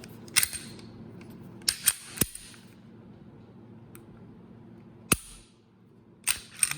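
A Walther P99 pistol's action is racked and cycled by hand, giving several sharp metallic clacks and clicks spaced across a quiet room, close and crisp.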